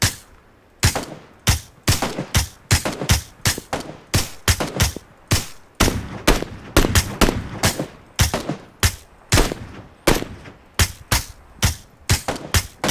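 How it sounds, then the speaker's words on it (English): Rapid gunshots ring out in the PUBG video game, sharp loud cracks in quick, fairly even succession, occasionally bunched into short bursts, continuing without pause. "Just let me take a couple shots."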